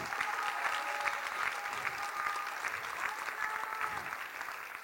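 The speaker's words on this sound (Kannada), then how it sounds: "ಎಲ್ಲರೂ ಒಂದ್ಸತಿ ಚಪ್ಪಾಳೆ ಹೊಡಿರಿ." Steady audience applause at a school drama performance, many hands clapping together in an even, sustained wash that holds at a moderate level throughout.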